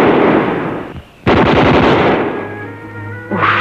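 Gunshots in a 1955 Soviet adventure film: a rapid burst of loud close shots, a brief pause, then another fast rattling volley that fades into a lingering tone.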